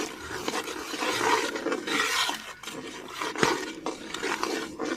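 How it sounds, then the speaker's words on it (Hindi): A spoon scrapes and stirs semolina in a pot while it roasts for egg halwa, a quiet, continuous rasping with small clinks against the metal at an uneven rhythm. "चमचा चलाते रहना।"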